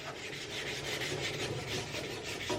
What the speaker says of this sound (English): Can't just keep doing that all the while with sandpaper